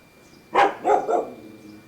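A dog gives three quick barks at close range, a sharp first bark and two softer ones after it, in an otherwise quiet entrance hall.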